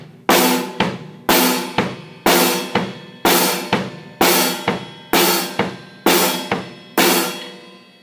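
A drum kit plays a basic beginner rock beat at a steady tempo, punchy kick and snare hits alternating with crisp cymbal wash, loud and close with no talking.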